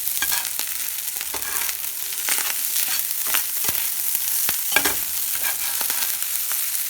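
Rice with a fried egg sizzling in a cast iron skillet, a steady close crackle with occasional stirring scrapes and small pops, no talking.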